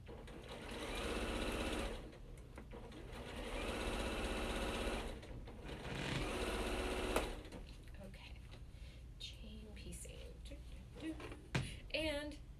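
A sewing machine runs steadily while stitching a quilt, its whirring motor holding in long stretches with brief stops, close by; later the machine falls quiet and a person talks over light handling sounds.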